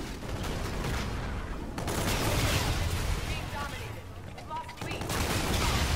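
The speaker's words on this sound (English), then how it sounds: "Oh my god, this rocket launcher." Heavy explosive firing and blasts in the shooter game Infinite Warfare, a rocket launcher amid dense, continuous battle noise at moderate level, with a player talking over the din.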